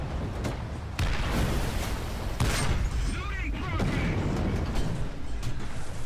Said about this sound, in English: I may be a sub, but I've got a deck gun.